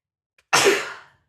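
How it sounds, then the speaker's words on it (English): A single loud, close sneeze with a sharp onset that trails off over about half a second, alone with no talk around it. "I'm so sick of sneezing."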